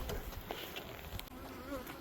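Honey bees hum in a dense, steady buzz around an insulated hive in a bee yard, close and continuous with individual insects drifting past.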